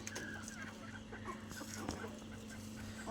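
Old-lineage hens and their chicks cluck softly and intermittently close by while playing in the soil, over a faint steady background hum.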